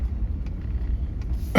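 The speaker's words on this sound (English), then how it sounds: "There's a car coming up behind me" A car coming up from behind on a road near Cape May, New Jersey, a low steady engine and tire rumble with a few faint clicks, heard from inside a vehicle without speech.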